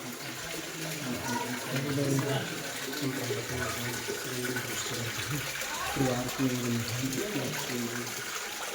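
Water pours from a cow-mouth spout at the source of the Godavari river in a temple, a steady gushing splash running throughout, close and fairly loud, with voices talking over it.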